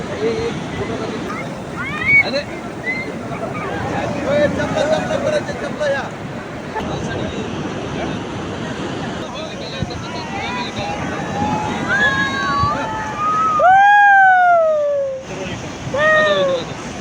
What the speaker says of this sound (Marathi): ती सुंदर लाटा येत आहेत